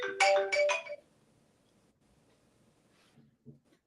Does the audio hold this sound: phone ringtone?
yes